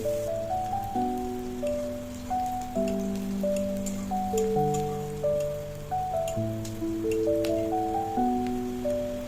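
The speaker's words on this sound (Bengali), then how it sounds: "ভালোভাবে ভেজে নেব পেঁয়াজটি বাদামি কালার হওয়া পর্যন্ত" Chopped onions and chili fry in a pan with a steady soft sizzle beneath a gentle instrumental melody that plays throughout.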